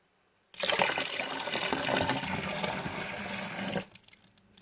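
Cold water gushes into a home brew bucket while a pilsner lager is being made, a steady close splashing pour that starts abruptly and cuts off near the end.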